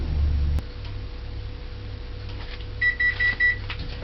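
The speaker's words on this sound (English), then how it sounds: "As I hear this first beep for the minute countdown." Four short electronic oven timer beeps sound in quick succession near the end, over a low steady appliance hum.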